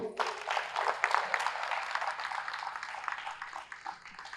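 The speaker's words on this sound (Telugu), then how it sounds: "లక్ష్మణరావు గారికి గట్టిగా చప్పట్లు." An audience at a PSSM Trust meeting in Perava applauds, dense steady clapping that holds for several seconds, fairly faint and distant throughout.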